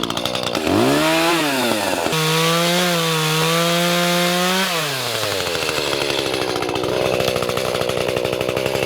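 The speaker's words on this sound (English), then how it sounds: "trim back these two trees here so that it's easy to walk down here" A chainsaw trims back two trees beside a path, its engine close and loud, revving up and holding a steady high whine while cutting, then dropping back to a rough idle. No one speaks.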